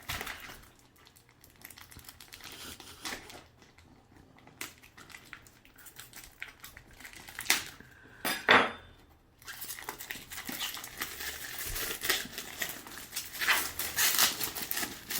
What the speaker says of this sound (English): Try to get into the plastic packaging with a butter knife like you do.